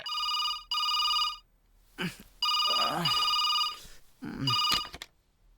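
A telephone rings in repeated electronic bursts, with a person talking in the gaps between rings.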